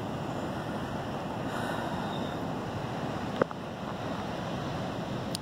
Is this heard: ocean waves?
yes